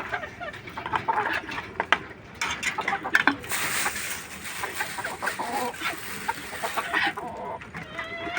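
A flock of desi hens eating rice, giving repeated close clucks and short calls over dense pecking clicks, fairly loud and continuous, with no one speaking.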